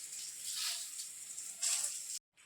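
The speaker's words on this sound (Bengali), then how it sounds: "এখন এখানে দিয়ে দিয়েছি পটল আলু ভাজছি" Pointed gourd and potato frying in a pan, a soft continuous sizzle with a brighter surge near the end, faint and close.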